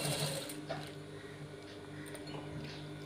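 A sewing machine stitches along the edge of a gents' shirt collar, its steady mechanical whir and low motor hum running continuously at moderate distance, with no talk.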